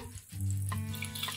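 Oil heating in a kadai for tempering, giving a brief, soft sizzling hiss with a faint low rumble, close but quiet.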